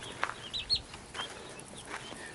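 A few soft, short clucks from backyard chickens sound close by, scattered over quiet background noise.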